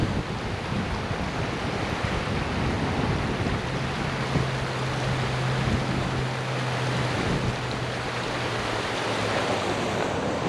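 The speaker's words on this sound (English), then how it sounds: "That, my friends, is the Trinity River." The Trinity River in the Denton greenbelt flowing high after flooding, a broad, steady rushing roar of water, mixed with wind buffeting the microphone and a faint low hum partway through.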